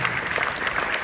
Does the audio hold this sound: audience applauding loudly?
yes